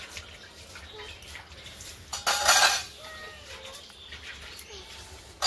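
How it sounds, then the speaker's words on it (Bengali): Metal dishes clatter and scrape during washing in a village home, with a loud burst of clanking and running water midway and quieter handling clinks and small knocks before and after. "তো তারপর তোমাদের সাথে গল্প করতে করতে আমার বাসন কটা মাজা হয়ে গেল।"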